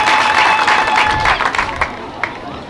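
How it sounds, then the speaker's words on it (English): Audience applause at a government opening ceremony in Bor, a dense crackle of clapping that swells and then tapers off over a few seconds, with no speech over it. "let's give them a big round of applause for them."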